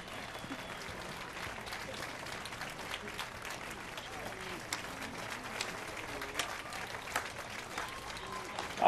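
Crowd applause in The Witcher 3 after Priscilla's song, a continuous patter of clapping held low in the mix under game ambience, with a few sharper claps standing out and a louder burst at the end.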